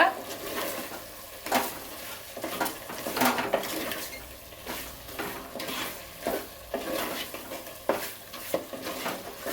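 Mutton kulambu masala mixed in a pot, with repeated rhythmic scraping and clanking of a ladle against metal over a soft sizzle, close and fairly loud.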